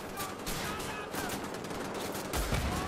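Gunfire from the video game Wolfenstein: The Old Blood, set in a prison level, with steady dense shots and crackling over a game soundscape and a heavier burst near the end.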